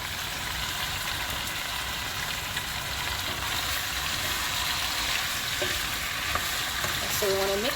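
Oxtail pieces being stirred in a pot with sugar browning, a steady loud frying sizzle with scraping stir sounds throughout, with a faint tone near the end.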